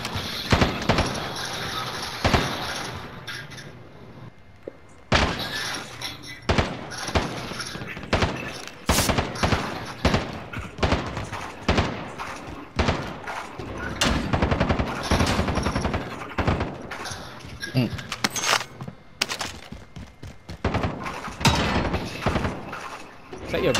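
Automatic rifle fire from the game Call of Duty Warzone, in rapid repeated bursts that carry on through nearly the whole stretch, loud and close, with players talking over it.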